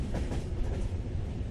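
A train runs steadily with a low, continuous rumble and rolling wheel noise, close by and unbroken.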